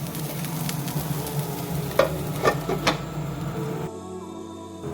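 Chopped beans fry in refined oil in a pan, a constant close sizzle with a few sharp clicks of a utensil against the pan, ending abruptly in quieter background.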